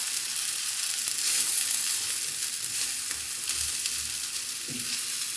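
An eggplant omelette of beaten egg sizzles and crackles steadily in a frying pan, a continuous bright frying hiss with faint scattered pops and no voices.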